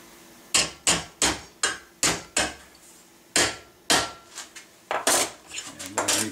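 A hammer rings as it bends a ramrod thimble tang over a mandrel at a gunsmith's bench: about a dozen sharp, close metallic blows, evenly spaced at first, then quicker and lighter toward the end.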